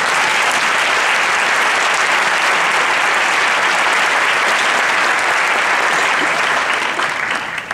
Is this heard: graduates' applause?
yes